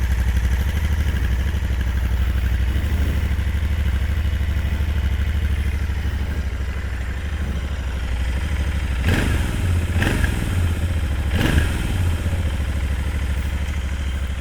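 A Royal Enfield Interceptor motorcycle engine idles steadily up close, a loud, even mechanical drone with a few sharp throttle blips near the end and no talking over it.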